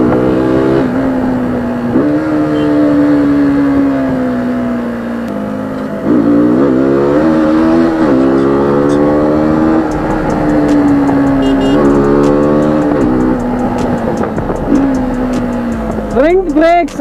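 A KTM Duke 200 motorcycle engine drones loud and close with steady revving, easing off and picking up again several times before a final sharp rise in revs at the end.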